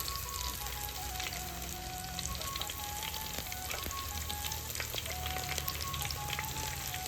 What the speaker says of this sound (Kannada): ಇದನ್ನು ಚೆಂದ ಫ್ರೈ ಮಾಡಬೇಕು